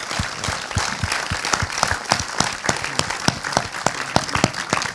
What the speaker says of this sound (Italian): credo che questo meriti un applauso, perché Bruno Pizzul